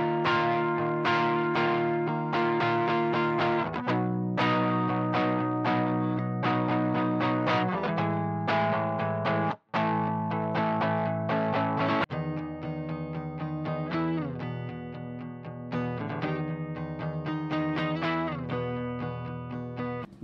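An electric guitar runs through a homemade fuzz pedal set to a smoother, milder mode and plays a continuous riff of fuzzy, saturated chords and notes. A brief dropout falls midway, and the tone is thick and sustained with no talking.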